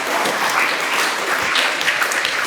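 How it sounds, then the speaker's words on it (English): A school graduation assembly audience applauds teachers, steady clapping filling the hall at moderate volume throughout. "If we give these teachers a round of applause of how hard they've put in."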